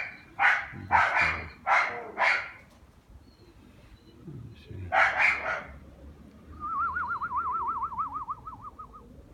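A dog barks several times in quick succession, pauses, barks twice more, then a wavering whistle-like tone trails off over low background rumble.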